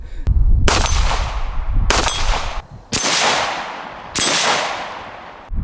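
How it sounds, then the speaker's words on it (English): Bullets strike a spinning steel target several times in a row, each hit a loud, sharp metallic clang that rings and decays before the next, with gaps of about a second between impacts. "I'm gonna keep shooting it though."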